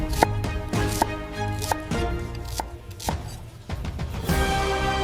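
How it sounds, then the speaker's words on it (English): Garlic is cut into precise pickling-size pieces in a factory, with sharp, rhythmic chopping knocks repeating roughly every half second, close and clear over a low industrial hum. "Garlic is cut into precise sizes for pickling."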